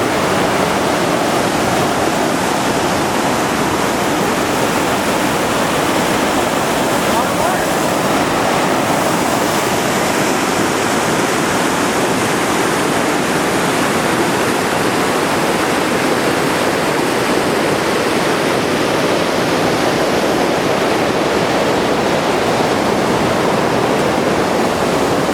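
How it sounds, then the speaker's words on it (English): Piute Creek rushing beside a backpacking trail, a steady, loud broadband roar of flowing water that fills the whole stretch without pause and with no voices over it. "Here's Piute Creek."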